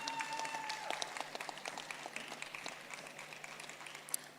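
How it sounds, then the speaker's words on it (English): Audience applause at the Fashion Fusion Ghana 2025 event, a dense steady patter of clapping from a crowd filling the whole stretch at moderate level, with a faint hum beneath. "Oh, I'm expecting you to clap."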